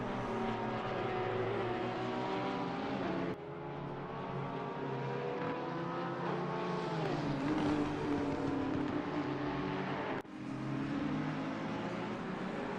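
Porsche race cars in the 12 Hours of Barcelona endurance race drone continuously, their engine notes rising and falling in pitch with brief dips as cars pass, without any talking.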